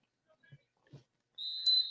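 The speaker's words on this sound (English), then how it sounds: "And we have the whistle" A referee's whistle blown to start a girls' varsity high school soccer match on a sunny fall afternoon: one sustained shrill blast after a couple of faint knocks, heard from a distance.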